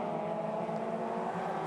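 Toyota 86 race cars running side by side at Phillip Island circuit, their engines making a steady mid-distance drone that holds level throughout the short stretch, with no voices heard.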